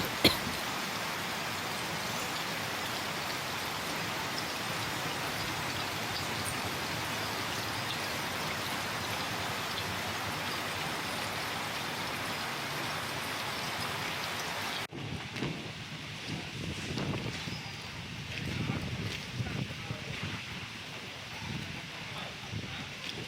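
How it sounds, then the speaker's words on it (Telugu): Heavy monsoon rain pours steadily across a Telangana district, a dense continuous hiss that runs unbroken, then shifts after a brief cut to a rougher, closer patter with gusty swells. "భారీ వర్షాలు పడుతున్నాయి"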